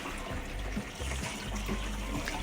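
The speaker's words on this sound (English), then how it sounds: "drain out most of that water out of the colander and start your second wash" Water runs over seitan dough in a colander during the second wash, a continuous splashing flow with a few soft knocks and sloshes mixed in.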